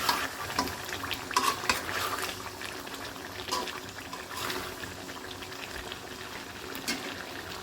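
Country chicken fries in a pan after bay leaves are tossed in, a soft steady sizzle with light stirring and bubbling, quiet and close.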